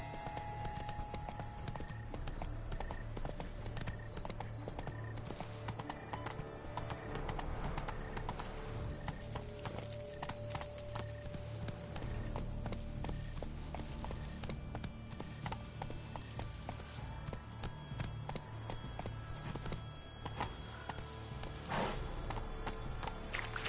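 Horse hooves clip-clopping at a steady walking pace in The Witcher 3 video game, set in large gardens, under quiet ambient sounds.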